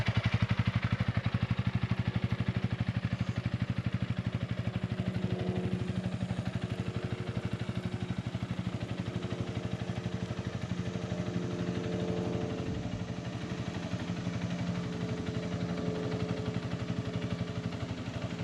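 Motorcycle engine pulling away in first gear as a new rider eases off the clutch, a steady low rumbling drone with wind buffeting throughout, fairly close and constant.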